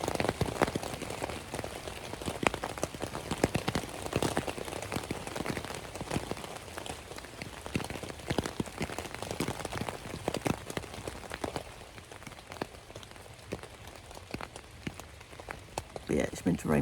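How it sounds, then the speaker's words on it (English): Rain patters steadily on a camping tent in October, a dense crackle of close drops drumming on the fabric throughout, with no voices. "it's now raining, which is a lovely sound on a tent"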